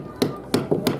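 Small hammer blows on wood at a traditional wood festival in Plédéliac's old-time village, Brittany: four sharp, close taps at uneven intervals over a low background murmur.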